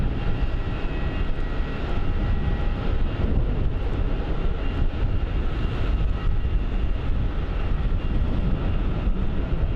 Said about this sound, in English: the Virgin Australia 737 touching down right there